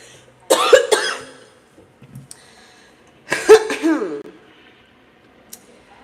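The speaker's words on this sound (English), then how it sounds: "let me clear my throat." Two harsh throat-clearing bursts come from someone close by, separated by a short pause, followed by quiet.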